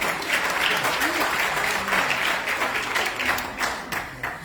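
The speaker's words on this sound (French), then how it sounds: "ambiance d'applaudissements." Sustained audience applause at a celebration event for the 9th edition of Technovation Girls, a dense, fairly loud wash of clapping with voices and cheers mixed in throughout.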